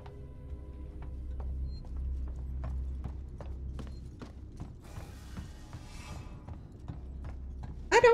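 Steady, heavy thudding footfalls of a character walking through an alien-infested sci-fi horror game, evenly paced and close, with faint mechanical creaks beneath and no voices.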